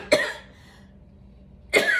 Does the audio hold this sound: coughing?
yes